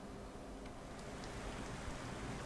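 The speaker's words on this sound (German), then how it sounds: "Warum habe ich denn hier Regen?" Steady rain in the horror video game Kraven Manor, a dense even hiss of falling drops with occasional faint ticks, continuous throughout with no talk.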